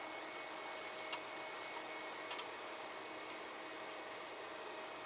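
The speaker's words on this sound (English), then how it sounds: "What you hear in the background is electric fan running right now." An electric cooling fan runs near a freshly started 521 cubic inch big block engine, giving a steady broadband whoosh with a few faint ticks and no talk.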